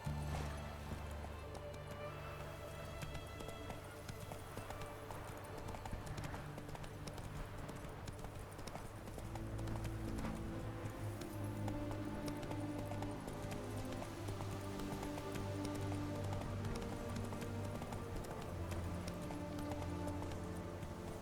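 Hooves of the horse Roach clip-clop at a steady walking rhythm in The Witcher 3, game music and ambience underneath, a faint voice briefly present.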